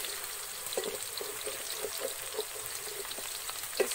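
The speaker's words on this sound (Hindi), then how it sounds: "अब इन मसालों को थोड़ी देर मिक्स कर लेंगे।" Ground spices with salt and turmeric being stirred in a hot pan for a ridge gourd sabzi, giving a steady sizzle and hiss with scattered soft scraping taps from the spoon throughout.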